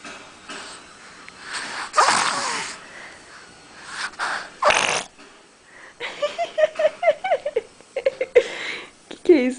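A baby's small sneeze and snuffling breaths, close by, amid a woman's affectionate chatter and the infant's soft vocal sounds.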